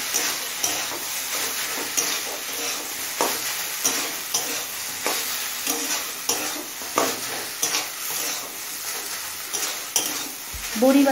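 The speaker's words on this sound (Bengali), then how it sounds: "বড়ি বাদাম আর চিনিটা দিয়ে আরও মিনিট 5-6 ভাজা ভাজা করে নিয়েছি" Radish greens stir-fried with crushed lentil dumplings, fried peanuts and sugar: steady close sizzling with repeated scraping strokes of a spatula in the pan, no voices.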